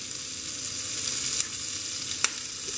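Onions for tartiflette sizzle and fry steadily in a hot pan as they begin to caramelize, a close, even hiss with a couple of faint pops.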